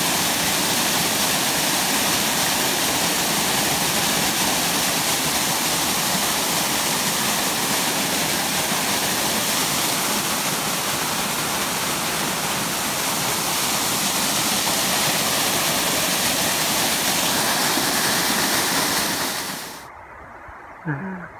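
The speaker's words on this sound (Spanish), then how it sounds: "Una cascada más." A waterfall roars, steady and loud, as a broad rushing wash of falling water that holds for about twenty seconds before cutting away abruptly, leaving faint background sound.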